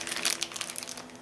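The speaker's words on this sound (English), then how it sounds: "Let's dump them all out here" Small parts from a magazine kit, washers among them, are dumped out of a bag onto a table, giving a short close burst of plastic crinkling and light rattling clatter.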